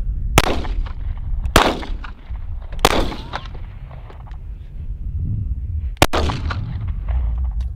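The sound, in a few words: HK P7M13 pistol being fired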